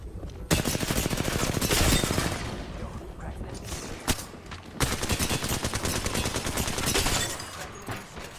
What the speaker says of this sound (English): Hearing the footsteps during all the grenades going off. Gunfire, again, not overwhelming at all